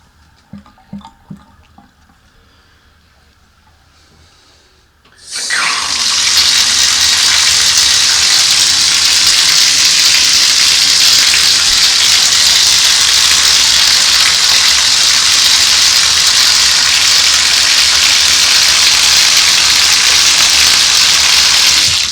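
Water rushes loudly and steadily down a bathtub drain freshly treated with Thrift drain cleaner, beginning abruptly after a few quiet seconds of light knocks and then holding a constant, close gush.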